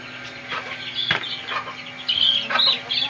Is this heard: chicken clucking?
yes